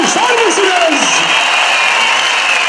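A dense crowd at a large political rally in Edremit applauds steadily, the clapping and cheering filling the air without a break.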